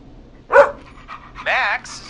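A dog gives a short bark followed by a whining, yelping vocalization, loud and close, in a talk-show setting.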